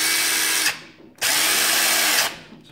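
Craftsman impact driver running at full power in two loud, steady bursts of high-pitched whine, the first about half a second long and the second near one second, separated by a short pause, close up with no talk.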